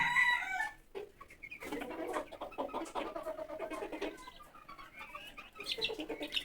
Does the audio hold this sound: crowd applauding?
no